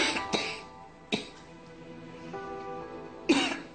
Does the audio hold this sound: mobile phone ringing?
no